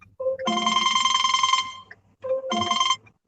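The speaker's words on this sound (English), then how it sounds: "Is that your phone, Clint?" A mobile phone ringing: two bursts of a bright electronic ringtone, a long ring followed by a pause and a shorter one, close and clear with no talk over it.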